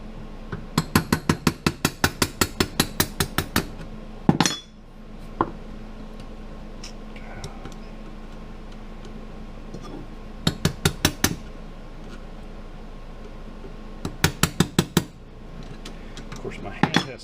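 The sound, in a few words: screwdriver tapping slots to spin trigger valve of Harbor Freight framing nailer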